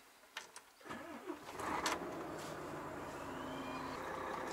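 A truck engine cranks and catches after a few seconds, then settles into a steady, even idle that continues to the end. The sound is moderately close, with no talking.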